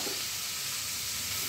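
Chopped onion lightly frying in a kadai gives a steady, close, even sizzle with no voices over it.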